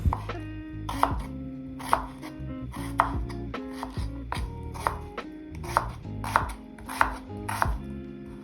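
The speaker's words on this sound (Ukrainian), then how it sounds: "Цибульку нашу також нарізаємо всю півкільцями." Onion being sliced into half rings with a knife on a board, giving a steady run of crisp chopping strikes, about one per second, close and distinct.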